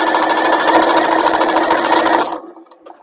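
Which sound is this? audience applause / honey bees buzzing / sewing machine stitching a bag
sewing machine stitching a bag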